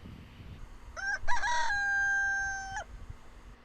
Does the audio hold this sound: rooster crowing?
yes